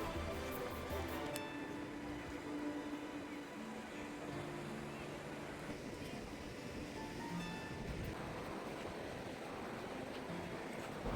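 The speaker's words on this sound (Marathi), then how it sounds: "मी आता वॉकिंग करायला चाललो आहे समुद्र काठाने आम्ही आता चालतोय." Sea waves wash steadily onto a Kerala beach, a continuous broadband surf roar with some wind noise, heard outdoors without any talking.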